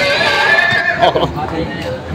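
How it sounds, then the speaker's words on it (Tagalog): A horse's whinny rises over nearby chatter and background noise, brief and fairly loud. "Malaking kabayo."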